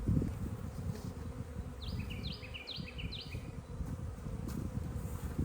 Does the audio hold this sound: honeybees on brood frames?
yes